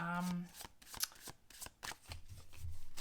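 Tarot cards riffled and shuffled in a few quick bursts, crisp papery flutters close by, with a brief voice and some handling noise around them.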